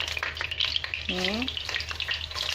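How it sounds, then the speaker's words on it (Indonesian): Shallots and garlic sautéing in hot oil with a continuous crackling sizzle and spoon stirring; a brief tonal squeak or voice-like sound rises in the middle. "Ini udah panas, langsung aja kita tumis si bawang-bawang"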